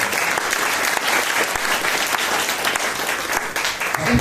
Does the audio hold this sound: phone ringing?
no